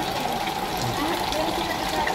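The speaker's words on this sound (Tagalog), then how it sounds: "Kita niyo naman yung gripo namin. Tuloy-tuloy ang tulo ng tubig niyan." Water runs without pause from a household faucet, a steady close splashing gush that stays even from start to finish, with a voice talking over it.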